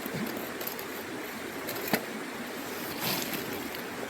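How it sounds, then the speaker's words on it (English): The Wild Ammonoosuc River flows with a constant broadband rush of water, close and steady, with a couple of brief knocks and splashes rising above the flow. "The sound of the river is probably more peaceful than me grunting."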